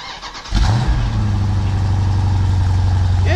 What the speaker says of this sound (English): This is the stock exhaust with the intake.